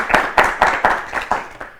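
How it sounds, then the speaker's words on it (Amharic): About seven loud, close hand claps in an even rhythm, slowing slightly toward the end, from a small group in a children's quiz show studio, with little else around them. "መ2 አጨብጭቡላቸው በደንብ አድርጋችሁ።"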